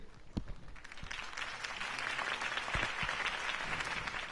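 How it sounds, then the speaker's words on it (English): A crowd in a Batman video game applauds steadily, dense clapping building slightly and holding at a moderate level, with a few sharper claps standing out early on. "could have heard that applause"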